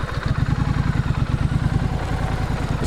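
A small motorcycle engine putters along while riding a rural road, its steady mid-pitched throb and mechanical clatter close and continuous with no talking.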